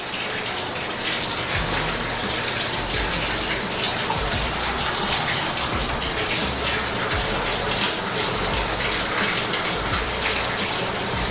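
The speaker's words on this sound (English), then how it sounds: "we're going to also check to see if we have hot water at the sink" A bathroom sink tap runs hot water during a home inspection, giving a steady, loud hiss and splatter that continues unbroken from start to finish without any talking.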